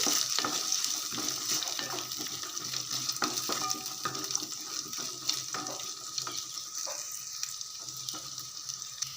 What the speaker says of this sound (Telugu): ఇలా ఒకసారి బాగా కలిపేసుకోవాలి